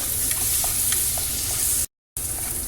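Ground garlic sizzles in hot oil with a loud, continuous crackling hiss and scattered pops, cut off by a brief gap of silence before resuming.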